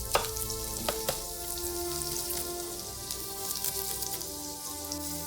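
Oil heating in a hot pan on a restaurant stove while veal neck and carrots are prepared: a steady, even sizzling hiss with faint crackles and a few brief clinks, no talking.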